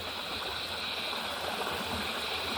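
A steady, full rush of water pours over rocks nearby, a constant bubbling flow with no pauses or voices.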